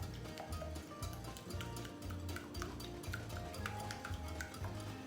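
A whisk beats eggs in a bowl for a quiche Lorraine filling, a quick steady ticking and clatter of metal against the bowl, close and continuous with no talk.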